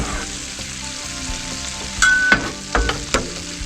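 Brussels sprouts caramelizing on a Blackstone griddle, with a close, continuous sizzle broken by a few louder spatula scrapes and taps near the end.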